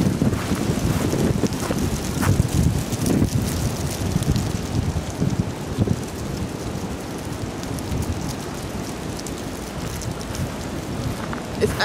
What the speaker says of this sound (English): today it's been really, really windy